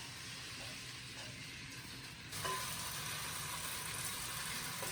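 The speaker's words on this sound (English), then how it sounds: "I'm putting the noodles into here and stir frying them." Steady loud sizzling and crackling of glass noodles stir-frying for japchae in a hot pan, continuous, growing a bit louder partway through.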